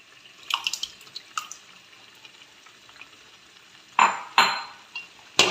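Cooked sago is poured into a pot of banana payasam, giving soft wet splashes and drips, with a couple of louder sloshing bursts near the end.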